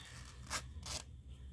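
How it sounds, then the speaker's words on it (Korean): A zipper on a knitted pouch is pulled closed in two quick rasping strokes, close and soft against a quiet background. "지퍼를 닫아보고"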